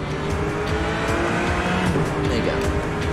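Engine roar and tire squeal from a Dodge Charger driven in the racing game The Crew 2, a steady loud drone with skidding under faint background talk.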